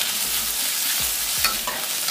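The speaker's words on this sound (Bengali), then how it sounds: "কোচানো আদা 1 চামচ, পেঁয়াজ দিলাম, কোচানো কাঁচা লঙ্কা দিলাম" Chopped ginger, onion and green chilli fry in a pan, a loud continuous sizzle with a couple of soft stirring scrapes, close up and without voices.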